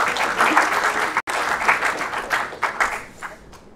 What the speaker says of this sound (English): We get a huge round of applause for Julia.